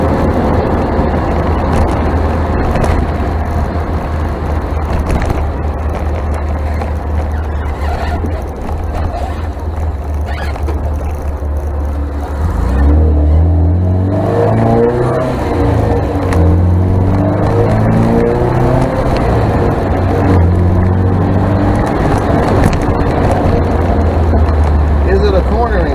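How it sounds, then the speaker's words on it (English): Engine of a 1978 MGB with its exhaust fitted, a steady loud rumble running throughout, with the pitch shifting midway as it revs, while someone talks over it. "Exhaust on it. It sounds real cool."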